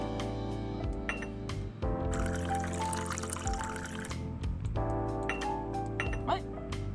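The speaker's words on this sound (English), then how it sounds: "Fill the jug with water and pour it into the machine." Water pours from a jug into a coffee machine in the video game Zipp's Cafe, a steady trickling stream with light clinks over a continuous background tone.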